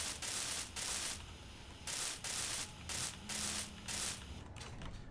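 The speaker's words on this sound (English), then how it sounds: "All right, let's weld them." A welding tool in the game Space Engineers gives bursts of harsh, noisy hissing and grinding, about seven regular pulses of roughly half a second each, close and steady, with no talking.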